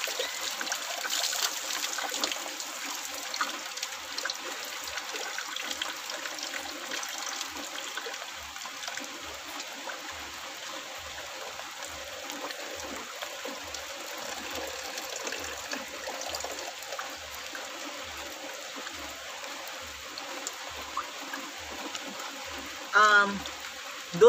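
Rain falling outdoors at night in a steady, soft patter with trickling water, a faint regular tapping underneath, and a brief louder splash near the end.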